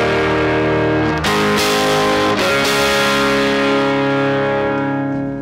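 Harsh, fizzy distorted electric guitar recorded direct without an impulse response or cabinet simulation, sustained buzzing chords with a couple of changes, loud and unaccompanied.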